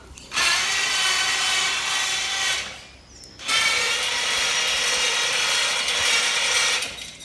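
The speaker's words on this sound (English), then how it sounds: "I'm gonna engage the winch at this time" Motorized trailer dolly with its winch engaged, running in two steady mechanical bursts of ratcheting, geared whirring, nearby and fairly loud, with a short pause between them.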